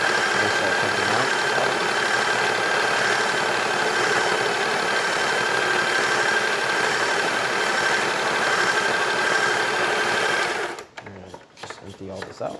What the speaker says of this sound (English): It is a little loud, but it is a flatbed grinder